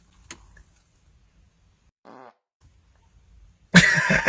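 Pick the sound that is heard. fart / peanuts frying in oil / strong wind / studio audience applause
fart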